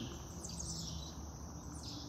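Birds chirp and tweet in a forested lakeside park at Crabtree Lake County Park, North Carolina, with faint, high, scattered calls over a steady, quiet outdoor hush and no talking.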